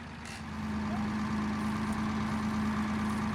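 Small four-cylinder diesel engine of a light armored tracked vehicle running steadily, a constant low hum with a clear droning tone that swells slightly near the start and then holds even, fairly close, no talking.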